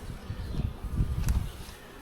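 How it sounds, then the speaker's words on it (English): Worker honey bees in an open hive with a pollen patty on top, a low, steady droning hum that swells and fades close by, with a faint rustle. "Looking in the top, lots of worker bees."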